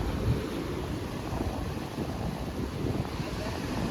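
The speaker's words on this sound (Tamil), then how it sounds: "ஆனால் அங்கே அடிக்கிற அலை பாரு, அங்கே அடிக்கிற அலை அப்படி தண்ணி இங்கே வந்து கரெக்டாக இங்கே வருது" Sea waves surge and crash steadily onto a beach, a continuous broadband roar mixed with wind buffeting the microphone, loud and close throughout with no talking.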